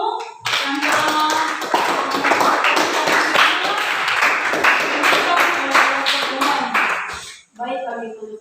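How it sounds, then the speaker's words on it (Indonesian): Classroom applause for a student group after their presentation at a teacher-training lesson, a dense burst of clapping hands running for several seconds at close range before cutting off, with a brief voice at the end. "beri aplaus untuk kelompok 1"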